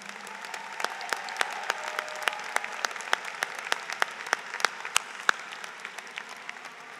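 A room of people clapping steadily at a 2022 university commencement ceremony, dense applause with individual sharp claps standing out, sustained throughout.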